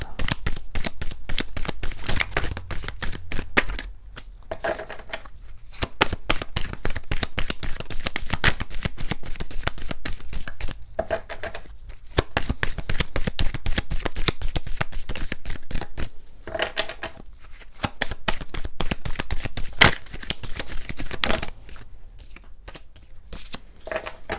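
Oracle cards shuffled by hand in a love tarot reading, a near, steady riffling flutter running in long bursts with short pauses between them, alone with no talk.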